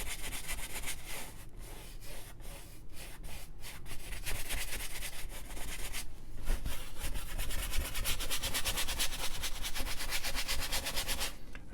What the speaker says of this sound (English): as you can tell by the way I'm scrubbing